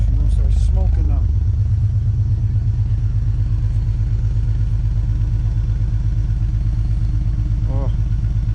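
A Honda S2000 idles at a car meet with a freshly fixed gasket, a close, deep, throbbing rumble with a steady pulsing beat, while people talk nearby.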